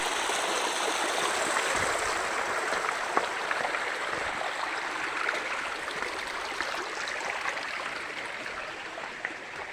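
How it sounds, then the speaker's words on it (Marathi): A stream swollen after a cloudburst and heavy rain in Hingoli district rushes along, giving a steady, full, close roar of flowing water that holds at the same level throughout with no voices. "इथं किती सुंदर पैकी पाणी वाहत आहे"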